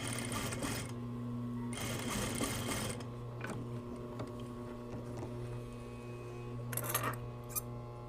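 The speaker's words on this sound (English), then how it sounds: "And then at the same time top stitch the front crotch seam." Sewing machine topstitching the front crotch seam of a pair of yoke pants, running in a few loud bursts of rapid stitching over a steady low motor hum, with quieter pauses between runs.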